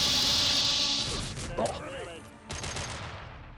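A gunfire salvo from Mass Effect, with a burst of shots and crashing impacts over steady game background noise, loud and close at first and then fading.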